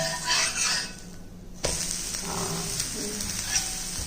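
Corn flour dosa cooked with ghee sizzles steadily in a hot pan after being flipped, with a short clatter of the turn partway through before the frying hiss settles back in, fairly loud and close.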